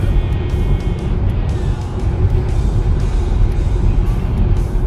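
Steady broadband road rumble of a car driving on a highway in heavy traffic near Danbury, Connecticut, a constant close hum of tires and engine with no voices.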